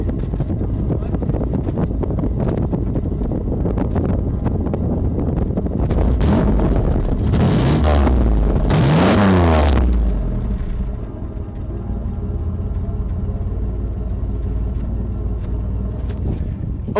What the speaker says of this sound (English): mind you, this is a stock exhaust. It's not gonna sound too great